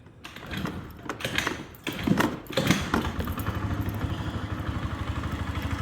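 A Chinese moped that has been off the road for a while, cranked with clattering starter noises and a few sputtering attempts before the engine catches and settles into a steady, close idle.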